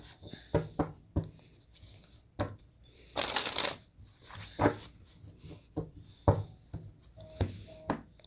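Tarot cards being handled and shuffled by hand: a string of crisp, irregular riffles and taps at close range, with one longer, denser burst of flutter partway through.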